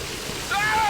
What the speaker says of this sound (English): And I took a shower.